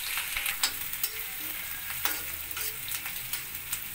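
Grated cabbage and finely chopped capsicum stir-fry for dry veg manchurian, a dense hiss of sizzling broken by repeated sharp stirring clatters in the pan.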